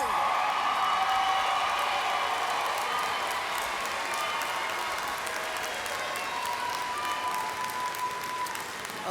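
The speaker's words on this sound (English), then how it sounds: "So why don't you graduates stand and give them a round of applause?" Graduates at Buffalo State College's 150th commencement stand and applaud their families, a sustained roar of clapping from a large crowd with scattered cheers and whoops, steady and loud throughout.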